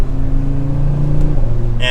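A 2024 Audi RS3 with its five-cylinder engine revs from inside the car, a loud, deep, steady drone that climbs and then drops in pitch, with the engine note continuous and close.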